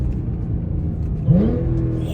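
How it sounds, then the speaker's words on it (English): An Audi B8 S4's supercharger whines over a steady engine drone during a downshift, a rising mechanical whine swelling partway through, heard from inside the car without talk. "I love that sound of the supercharger. It's just, it whines so much"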